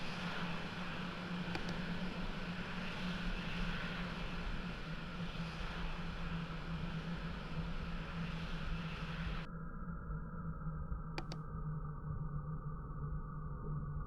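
Jet fighter taking off in the Falcon 4 Allied Force flight simulator game, loaded with AMRAAM missiles and HARMs under the wings: a steady, loud engine roar that holds throughout, changing tone partway through.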